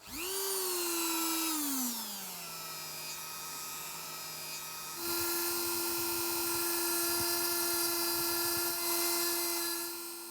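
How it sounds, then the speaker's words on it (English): A small high-speed engraving drill whines steadily, its pitch swooping down as it loads against the workpiece, then settling and jumping back up to a sustained, tonal buzz, close and loud with no talking. "I saw a drill there with which you could engrave something"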